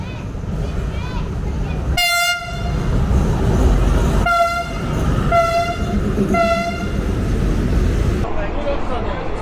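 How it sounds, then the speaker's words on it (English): Train rolling along a railway in Thailand on the way to Hellfire Pass, with a steady rumble of wheels and carriages and a horn blaring in three separate blasts over the middle of the run. "Now I'm on the train."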